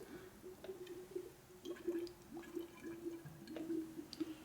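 Liquid is poured down an empty fork tube of a 2004 Harley-Davidson FLHT Twin Cam touring motorcycle, a faint gurgling trickle with small glugs and drips, heard alone.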